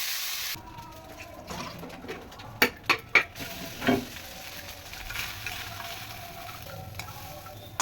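Eggplant frying in a pan in a home kitchen, a soft sizzle under a few sharp clinks and stirring scrapes of a utensil against the pan, fairly close and moderately quiet.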